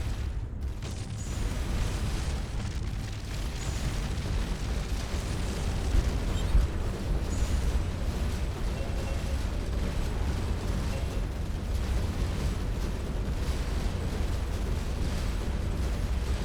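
Weapons fire and explosions in a space battle in the video game Starcom Nexus, a dense, continuous roaring rumble with rapid crackling bursts layered over it, loud and unbroken throughout.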